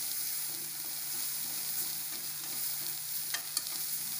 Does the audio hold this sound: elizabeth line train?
no